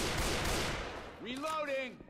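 Gunfire in Left 4 Dead 2 crackles in a short, dense burst at the start, then gives way to a voice-like tone near the end.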